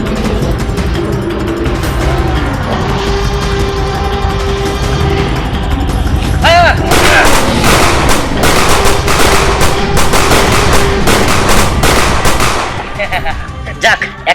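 Rapid bursts of staged gunfire in a dragon-fight battle scene, loud sharp cracks repeating in quick volleys from about seven seconds on over a dense layer of music and effects, with shouting voices mixed in.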